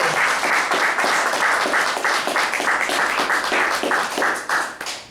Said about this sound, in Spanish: ¿Qué le parece si le da un fuerte aplauso a todos los papás en esta tarde?